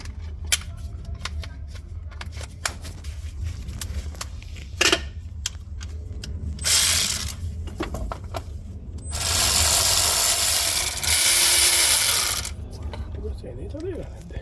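Ratchet clicking as the 10mm bolts come off the rocker cover of a 2003 Toyota Hiace with the 2RZ engine, heard close up in short bursts with louder sustained stretches of rapid ratcheting.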